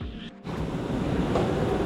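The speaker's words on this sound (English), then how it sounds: "The wind is howling, the rain is pouring." Wind howls and rushes outside a car garage in pouring rain, starting in a brief hush and then blowing as a loud, steady roar close to the microphone.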